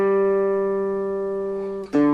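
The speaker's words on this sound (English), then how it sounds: "so a little bit of vibrato there" A single sustained note on a three-string cigar box guitar, held with gentle vibrato and slowly fading, then a brief string noise and a fresh attack near the end; close and clear with no talking.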